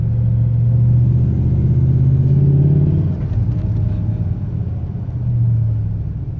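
A 2003 Ram Hemi pickup fitted with a Taylor Helix throttle body spacer revs with a loud, steady low rumble that rises and eases with the throttle, heard close with no talking.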